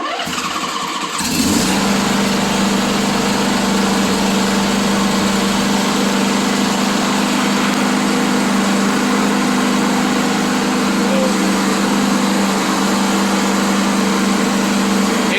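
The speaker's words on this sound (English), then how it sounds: "put that about 3/4 all the way, this all the way up on the choke, and it will crank up" A lawn mower engine with the choke set fully up cranks briefly, catches and then runs steadily at a loud, even idle drone, close by, with no talking.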